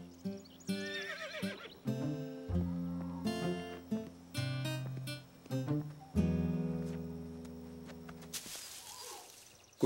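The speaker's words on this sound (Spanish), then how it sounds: "El sonido del caballo asustó a Caillou." A cartoon horse neighs and whinnies repeatedly, loud and close, with hoof clip-clops and some animated cartoon-like sound between calls.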